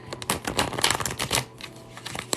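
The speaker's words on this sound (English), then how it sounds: "Let me just give this a quick shuffle for you guys." Tarot cards shuffled by hand, a quick run of dense riffling clicks and flutters close up, loud and busy, then trailing off into lighter taps.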